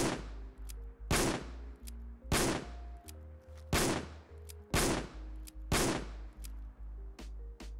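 Six loud, evenly spaced Smith & Wesson revolver shots ring out in a Fallout 4 mod, each a booming crack with a short ringing tail over a steady low hum.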